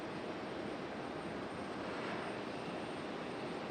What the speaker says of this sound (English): A Velo coming in from New Haven on a 737-800.